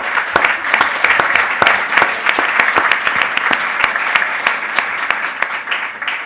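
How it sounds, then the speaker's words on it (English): An audience at an education policy debate applauds the debaters, a full, even burst of clapping from many hands with distinct sharp claps standing out near the front, continuing for several seconds. "I'd like to invite everyone to join me in applauding our debaters tonight"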